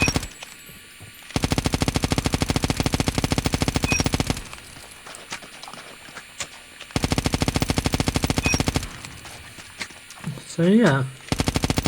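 In the video game Call of Duty, a weapon fired from the hip lets off several long, rapid automatic bursts separated by pauses, with someone talking between and over the shots.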